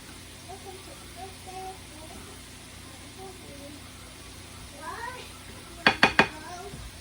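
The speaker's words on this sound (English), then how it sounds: "I'm getting the broccoli into the saucepan to get onto the stove" Pots and a saucepan are handled while cooking a broccoli side dish, with soft background murmur and then a quick burst of three close metallic clanks near the end.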